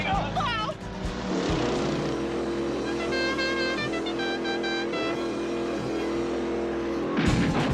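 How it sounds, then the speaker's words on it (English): A General Lee car launching into its famous jump, engine roaring loud and steady under music and excited voices, with a rough revving swell near the start and another at the end. "Here's the car doing its famous jump."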